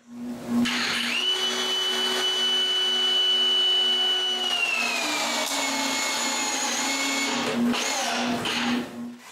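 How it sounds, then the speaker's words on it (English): A power tool whines steadily as it drives big all-purpose screws into a wooden door frame, a loud continuous motor tone with pitch shifts as each screw bites, then easing off near the end. "it's time to screw all of this together."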